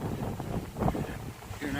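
Gusty wind buffets the microphone in a partly cleared woodland, a rough rumbling roar that swells and dips over a short stretch.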